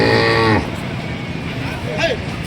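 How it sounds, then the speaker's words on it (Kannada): A bullock lets out a loud, close moo at a busy cattle market in Haveri, and the call cuts off after about half a second. Crowd murmur and distant traffic fill the rest, with faint voices in the background. "ಅದು ನೋಡಿ ರೈತರ ಎತ್ತುಗಳು ಚೆನ್ನಾಗಿದಾವೆ"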